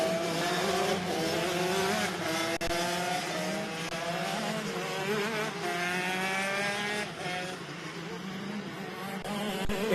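125cc shifter karts with 6-speed gearboxes racing at Sonoma scream at high revs, with rising pitch on each gear as several karts pass and shift, heard from trackside at moderate distance with no talk.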